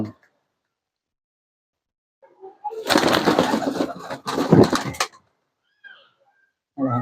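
Domestic pigeons in a small home loft give a burst of low throaty cooing, close by, in two short bouts separated by quiet, with faint movement sounds at the edges.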